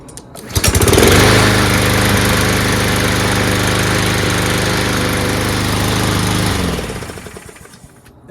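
A Troy-Bilt Powermore lawn mower engine catches after a recoil pull and runs steadily with a loud, buzzing drone for several seconds before cutting off and winding down.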